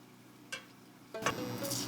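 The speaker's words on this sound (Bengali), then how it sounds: "একই তেলে চিনে বাদাম ভাজতে দিচ্ছি।" Peanuts drop into hot oil already used for frying, giving a brief clink and then a sudden burst of close, bright sizzling that keeps crackling to the end.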